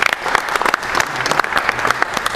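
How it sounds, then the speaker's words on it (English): An audience claps for a speaker, Derk de Geus of Paladin Studios, at a talk: a close, fairly loud burst of individual hand claps with an uneven rhythm, growing steadier across the whole stretch. "So a warm applause for Derk de Geus."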